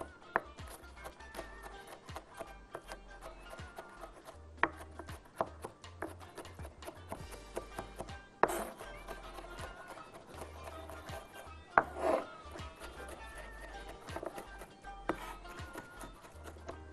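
A knife chopping kofta mixture on a board, a long run of soft, uneven taps and scraping cuts, with a few sharper knocks standing out above a low background.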